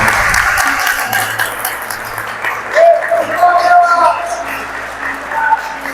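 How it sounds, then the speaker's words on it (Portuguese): A congregation applauds at a religious seminar, clapping and crowd noise rising over background music and voices, with people talking through it. "Aplaude o Senhor"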